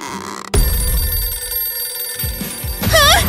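A cartoon telephone rings with a short, warbling electronic trill near the end, after a burst of other clattering noise.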